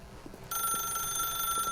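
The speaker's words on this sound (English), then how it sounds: "So we could answer the phone to stop it ringing" A telephone in the video game The Stanley Parable rings with a steady, bright electronic trill that starts abruptly and continues without pause, moderately loud, with no voices.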